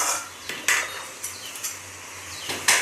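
A utensil stirs greens (kalmi sag) in a metal pot, making a few sharp clinks and scrapes spaced irregularly over a steady low background, close and fairly clear.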